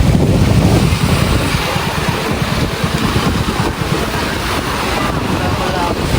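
Strong wind buffets the microphone in a loud, constant roar at the Dinahican fish port by the sea, with surf and boat noise mixed in and no clear talk.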